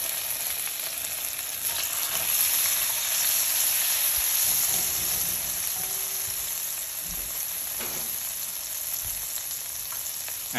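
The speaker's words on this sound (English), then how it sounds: "So we're gonna go ahead and fry the black bean here." Fermented black beans fry in a wok for beef chow fun, a steady close crackling sizzle with occasional stirring scrapes, moderately loud and unbroken, with no talking.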